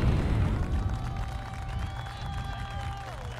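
A crowd claps and cheers at a tower demolition in The Wire, steady applause over a low rumble, with a few thin whistling tones rising above it for a moment.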